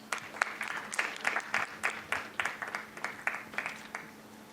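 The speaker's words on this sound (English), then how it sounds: "please join us in inviting them to take their seats with a round of applause" Scattered, fairly faint clapping from an audience at a conference on GST, welcoming panelists to their seats, with individual claps distinct in an uneven rhythm.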